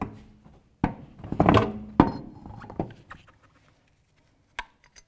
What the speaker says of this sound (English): Now I'm going to put the tire on.